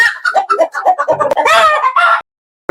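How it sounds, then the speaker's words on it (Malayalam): Silkie, black-fleshed and local country chickens cluck loudly and close up in a quick run of squawky calls, then fall silent. "ആ സിൽക്കി കോഴിയുണ്ട് കരിങ്കോഴിയുണ്ട് നാടൻ കോഴി"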